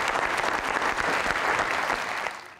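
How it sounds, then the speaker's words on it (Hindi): A live comedy audience gives sustained clapping for comedian Babbu Rana, dense and even, tapering slightly at the end, with a faint voice under it. "बब्बू साहब के लिए ताली"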